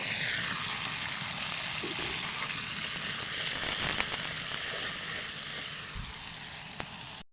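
Spice paste hitting hot oil in a wok, already holding bay leaves and cinnamon, gives a loud, steady broadband sizzle with a few sharper crackles near the end.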